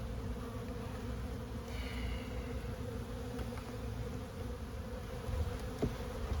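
Honey bees buzz steadily around an open hive of a small colony that survived winter, with brood and stored honey, a dense continuous drone close by with occasional louder passes of single bees.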